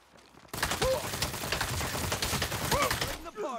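SMG fire in Saints Row, rapid loud bursts of automatic shots starting abruptly and rattling on for about three seconds amid game effects before cutting off.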